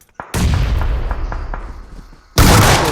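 A cooked grenade goes off in a battle royale video game as a loud, close, booming blast that rumbles on and fades, then a second heavy explosion cuts in abruptly near the end, with no voice.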